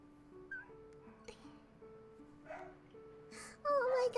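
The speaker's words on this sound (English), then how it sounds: "I'm so sorry for the dog barking in the background" Dogs bark outside, heard as a few faint, distant yaps scattered over quiet background music, with a voice rising near the end.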